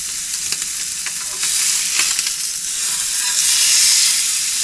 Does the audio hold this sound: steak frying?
yes